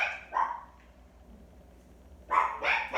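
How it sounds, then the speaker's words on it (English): A dog barks indoors, two quick barks, a pause, then two more, close and fairly loud with no voices over them. "That's my dog."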